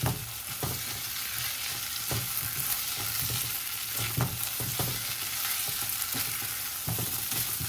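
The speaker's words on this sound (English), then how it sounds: "You have to keep on constantly stirring it so that your rice does not." Seafood fried rice is stirred and tossed in a hot pan, a continuous frying sizzle broken by repeated scraping knocks of the utensil against the pan at irregular intervals, close and clear with no voices.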